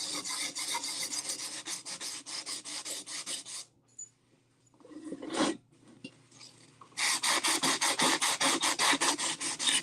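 Abrasive scrubbing strips rust from a cast-iron pan in quick, regular back-and-forth strokes, loud and close. A quieter pause with a few handling scrapes and bumps comes midway, then the rhythmic rasping resumes.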